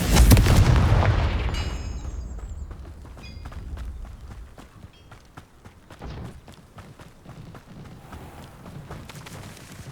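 The Confringo explosive fire spell in Hogwarts Legacy bursts with a loud, close boom that rumbles and fades over a few seconds, followed by lighter scattered taps and footsteps.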